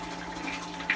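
A small $25 water pump from Amazon pushing water through plastic tubing in a bottom-up plant watering system, a soft continuous trickle and gurgle with a brief splash near the end.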